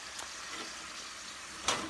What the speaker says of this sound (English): So that is just sizzling right away.